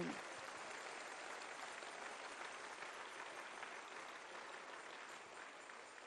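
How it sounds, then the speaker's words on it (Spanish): Sustained applause from a large church congregation during a Christmas sermon, steady and dense throughout, with no voices standing out. "Denle ese aplauso fuerte al Señor si usted lo siente"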